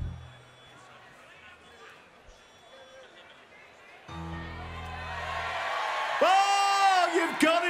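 A festival crowd at a Lancashire Hotpots gig at Kendal Calling 2019 swells into loud cheering and whooping, rising after quieter moments, with a voice over the mix.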